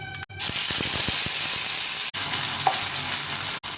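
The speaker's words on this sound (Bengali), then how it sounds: "লঙ্কা আর জিরে ফোড়ন দিয়ে দিলাম, দিয়ে আদা জিরে লঙ্কাটা বাটা আছে এটা দিয়ে দেবো" Whole chili and cumin seeds sputter in hot oil for a Bengali fish curry tempering, a steady loud sizzle with quick crackles and pops throughout and brief breaks as the pan is stirred.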